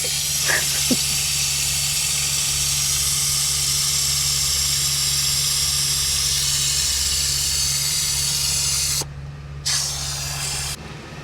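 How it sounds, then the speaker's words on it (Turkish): Loud, continuous hot steam hissing from a steamer held close while old window film is stripped from a BMW 750iL V12, with a low steady hum underneath that cuts out briefly near the end. "Bu işin ilacı sıcak buhar değil mi?"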